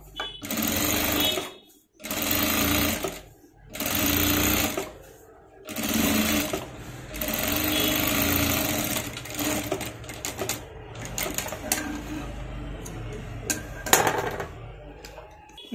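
A sewing machine runs in bursts while stitching the back hem of a maggam blouse, its rapid mechanical chatter starting and stopping with short pauses, close up and loud, with occasional handling clicks.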